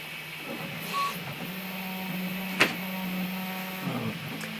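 A Prusa 3D printer works through a small nameplate, its stepper motors giving a steady low whine with shifting pitches and faint mechanical ticks, heard close and alone.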